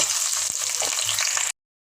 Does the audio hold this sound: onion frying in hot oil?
yes